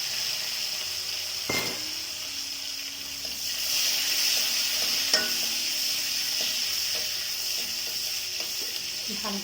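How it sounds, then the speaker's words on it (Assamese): Sliced onion with dried chillies and a piece of cinnamon frying in hot oil in a pan, a steady loud sizzle throughout with occasional scraping stirs and utensil clinks. "ইয়াতে মই পিঁয়াজ দিছোঁ এটা"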